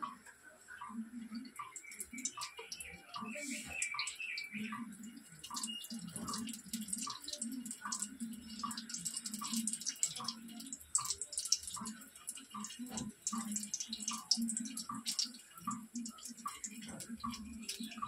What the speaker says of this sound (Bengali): বেসনের ব্যাটারে চুবিয়ে তেলে ছাড়বো